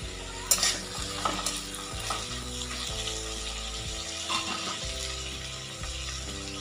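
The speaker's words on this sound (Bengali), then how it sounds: "তারপর পেঁয়াজ কালি আর আলু ভাজা বসিয়ে দিয়েছি।" Onion, nigella seeds and potatoes fry in a pan with a continuous close sizzle and frequent scraping stirs over a faint tonal background.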